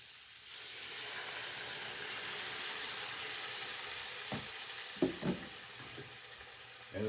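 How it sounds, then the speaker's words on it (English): Chicken stock poured into a hot pan with broccoli sizzles and steams in a steady, loud hiss, with a few clinks and stirring knocks toward the end. "I'm actually going to do a little steaming action and take a little bit of that chicken stock I had."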